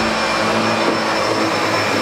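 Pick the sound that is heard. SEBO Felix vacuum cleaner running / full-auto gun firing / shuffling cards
SEBO Felix vacuum cleaner running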